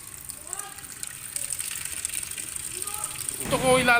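Water pours over three raw eggs set outdoors beside a road in hot sun, a steady splashing gush that swells loudly near the end, with a voice speaking over it.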